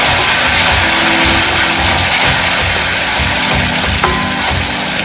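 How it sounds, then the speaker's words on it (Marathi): Onion hitting hot oil with fried cumin for kadhai paneer, a loud steady sizzle filling the whole moment without pause, close and dense, with no talking over it. "त्यात टाकूया कांदा. कांद्याला मस्त गोल्डन ब्राऊन होईपर्यंत परतायचं आहे."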